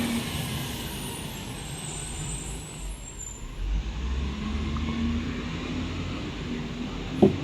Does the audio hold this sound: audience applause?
no